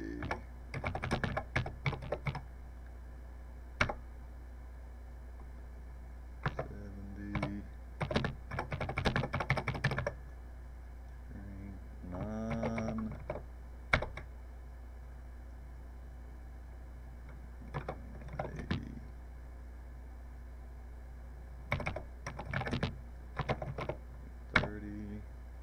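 Fingers type on a Texas Instruments TI-99/4A computer keyboard while a program is entered, producing sharp clicking keystrokes in irregular bursts and short runs, separated by quiet pauses.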